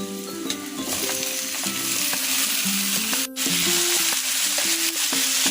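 Tomatoes tumble into garlic already frying in a pan, setting off a loud, steady sizzle that runs the whole time, with a brief sharp hiss partway through and background music underneath.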